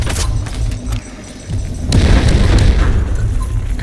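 Grenade blast in the shooter game Delta Force Extraction: a loud, rumbling boom swells about halfway through and lingers, following quieter muffled game noise.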